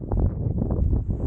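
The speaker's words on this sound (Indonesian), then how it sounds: "Angin masih kencang, ini kita sampai camp area disambut dengan angin" Strong, steady wind buffets the microphone at a mountain camp area on a hiking trail up Mount Kelud, a low, continuous roar with no pauses over a brief moment.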